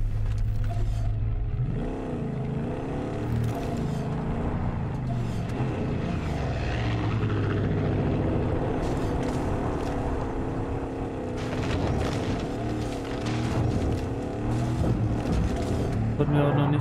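A semi-off-road car in Far Cry 5 drives with a steady engine drone that rises and falls as it revs and shifts, loud and continuous throughout, with someone talking over it.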